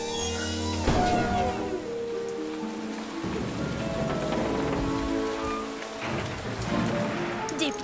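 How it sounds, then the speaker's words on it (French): Heavy rain pouring onto surfaces in a storm, a dense continuous hiss with a few sharp crackling bursts and low rumbles, loud and close, no talking. "Une tempête, oui."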